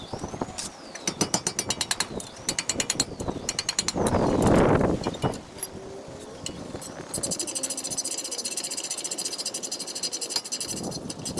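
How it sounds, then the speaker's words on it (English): A ratchet removes the brake caliper bolts on a 1999 Toyota 4Runner, its rapid clicking steady and close across the whole stretch, broken midway by a brief rough scraping burst, with no talking. "So I'm going to be removing these two bolts."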